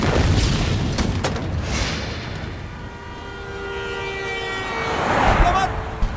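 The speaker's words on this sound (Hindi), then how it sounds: "और धमाका।" An explosion in a Hindi-dubbed Korean drama: a deep, rumbling boom opens loudly, then fades into a long roar with a rising whine toward the end.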